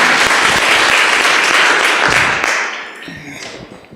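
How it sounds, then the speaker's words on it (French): A small audience at a talk with a startup co-founder claps loudly and warmly, the applause fading out over the last second or so. "Donc on peut l'applaudir pour l'instant."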